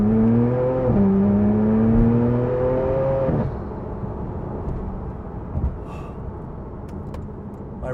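A 2015 Porsche 911 Turbo S accelerating hard down a straight, engine pitch climbing through two quick upshifts before easing off into a quieter cruising hum.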